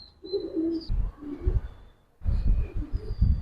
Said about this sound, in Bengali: অনেক সুন্দর কবুতর মাশাআল্লাহ